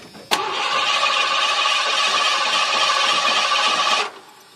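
A van engine cranks loudly and steadily for about four seconds after a sharp click, then abruptly cuts off into quiet.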